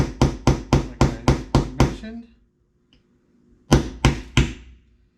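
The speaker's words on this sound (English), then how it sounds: "We're going to use this same little punch tool that I used to hammer that screw in." A small metal punch tool is struck with a hammer, pressing frozen parts into a cush drive cover on a Traxxas XRT RC truck. Eight quick, even, close taps come first, then a pause, then three more taps.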